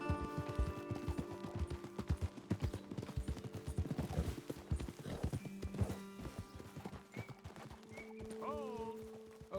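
Horse hooves clip-clop at a gallop in Red Dead Redemption 2, a dense, steady rhythmic drumming up close with a whinny breaking through and a melodic game score rising late in the clip.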